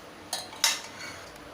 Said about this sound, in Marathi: हे दूध घेऊन हे कॉर्नफ्लॉवर मिक्स करून घ्यायचं आहे, म्हणजे त्याच्या गुठळ्या होत नाही.